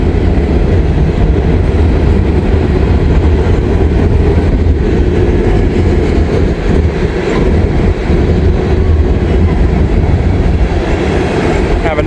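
Loaded coal freight train backing down to couple onto a cut of cars, a loud continuous rumble of wheels and rail clatter with occasional clicks and squeals, close and sustained.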